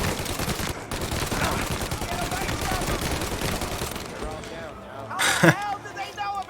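Dense full-auto gunfire in the Mafia Remake video game, continuous bursts rattling under overlapping voices and game chatter, with one sharper loud crack near the end.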